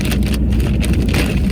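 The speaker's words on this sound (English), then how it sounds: "And when it started raining, the sky just opened up." Heavy rain pounds loudly and steadily on a truck during a windy downpour, with road and engine rumble beneath and no talk.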